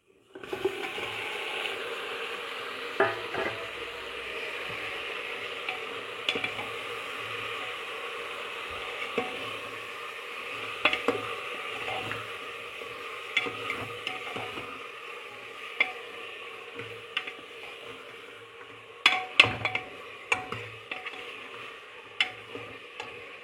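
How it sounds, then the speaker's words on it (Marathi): Marinated mutton sizzles in a pan with ginger, garlic and onion, a faint steady frying hiss broken by scattered ticks and scrapes of stirring. "हे मॅरिनेट केलेलं मटण आपण याच्यामध्ये टाकूया."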